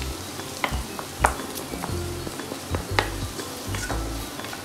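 Onions frying in a pan with masala spice powders for chicken varattiyathu, a soft steady sizzle broken by sharp clicks and scrapes of a spoon stirring, close and without talk.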